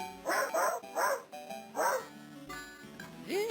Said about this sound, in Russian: А это собака.